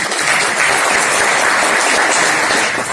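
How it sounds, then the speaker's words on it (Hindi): Sustained, loud applause from a large audience at the India Mobile Congress 2023 curtain-raiser event, dense clapping filling the whole stretch without a break. "जोर से ताली बजाइए भाई COI के लिए"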